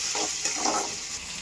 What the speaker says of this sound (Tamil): இஞ்சி பூண்டு போட்டு நல்லா வதக்கிக்கோங்க